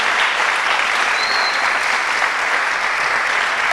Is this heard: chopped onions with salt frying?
no